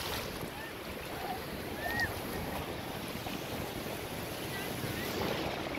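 Ocean surf washes at Ilha Comprida near a boat, a low, steady rush of waves mixed with gusty wind buffeting the microphone, with small surges in loudness.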